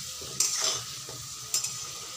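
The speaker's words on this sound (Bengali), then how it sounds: "আলুগুলো তো ভাজা হয়ে গেছে, তুলে নিব এখন আমি" Fried potato pieces for Bengali chicken kosha are lifted from hot oil with a metal spoon, giving a soft continuous sizzle broken by two sharp scraping clinks against the pan, with no talking.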